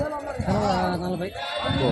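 Several sheep bleat close by at a crowded sheep market in Gudur, their wavering calls overlapping one another in quick succession.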